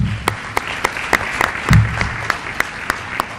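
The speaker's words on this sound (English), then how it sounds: "A round of applause for her." Sparse, scattered clapping from a small audience at an annual lecture, individual claps spaced unevenly over a few seconds with a low murmur beneath.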